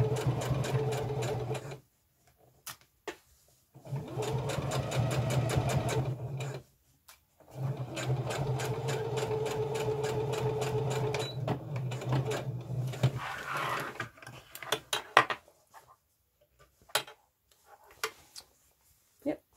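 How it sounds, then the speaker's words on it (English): A sewing machine stitches back over an old seam in a front-button skirt, running in long, steady bursts broken by short pauses, then a few brief clicks and taps as it stops near the end. "make sure you sew over the old seam a little bit and on the other side as well"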